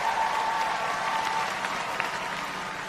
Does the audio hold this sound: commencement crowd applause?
yes